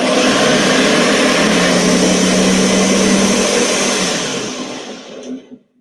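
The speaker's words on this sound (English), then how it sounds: "So let's blend it up." Kitchen blender blending salsa: a loud, steady motor roar held close for about four seconds, then winding down and stopping with a final rattle.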